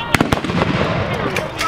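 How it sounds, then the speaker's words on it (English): Sharp cracks from medieval hand guns fire in a quick burst of about three reports, then one more shortly after, during an outdoor historical black-powder demonstration by reenactors. "So Lord Barkley will start when the first shot goes off."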